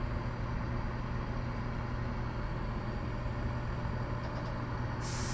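A Class 170 train in Train Simulator brakes under a steady, dense rumble of running noise, with a hiss of air joining near the end; no one talks.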